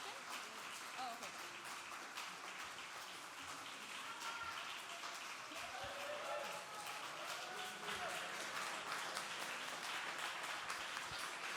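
Scattered audience clapping at the close of a lightning talk on generative choreography at a conference, fairly faint and steady throughout with some murmuring voices in the room.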